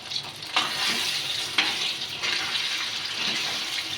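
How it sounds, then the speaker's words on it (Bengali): Marinated chicken, coated in egg and cornflour, frying in white oil in a wok, giving a steady close sizzle with a few sharp spatters or stirring clinks. "তো এটা মা একটু ফ্রাই করে নেবে হালকা করে।"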